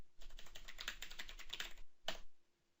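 Rapid, close clicking of a computer keyboard as a URL is entered, a steady run of light keystrokes ending with one firmer key press, then quiet.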